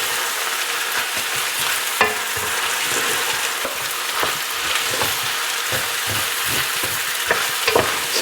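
Rice with carrot and other vegetables toasts and sizzles in a hot pan for a pig tails and rice dish, a constant frying hiss broken by repeated scraping stirs of a utensil, close and loud with no talking.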